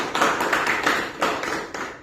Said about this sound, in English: let us have the honor to welcome them with a big round of applause